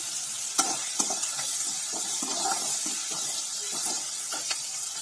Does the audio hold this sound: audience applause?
no